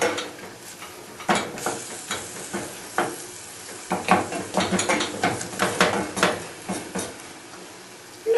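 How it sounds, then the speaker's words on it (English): Minced beef stirred and fried in a pan, with steady sizzling broken by repeated scraping, clattering strokes of a utensil against the pan, fairly close and continuous with no talk. "Keep it moving so it doesn't burn, doesn't catch on the side of the pan"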